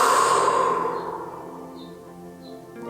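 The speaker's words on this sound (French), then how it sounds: "Et soufflez" A person lets out a long, deep exhale while relaxing their shoulders during guided relaxation. The breath starts strong, then fades gradually over about three seconds and sounds close and alone.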